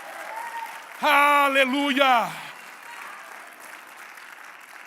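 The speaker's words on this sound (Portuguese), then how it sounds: "a salva de palmas pode ser mais alta" Applause from a church congregation, steady clapping in the background while a voice cries out loudly for about a second and a half over it.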